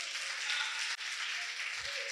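A church congregation claps during a sermon, a steady, fairly faint patter of many hands that holds for a couple of seconds.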